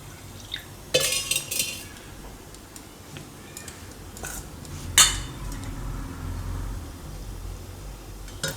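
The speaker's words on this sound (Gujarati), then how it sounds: "તો આમાં થોડું થોડું પાણી નાખીને ખીરું તૈયાર કરી દઉં." Gram flour batter for fenugreek and poha fritters is mixed by hand as water is added, with a spoon clinking and scraping against a bowl in a few sharp knocks amid soft stirring.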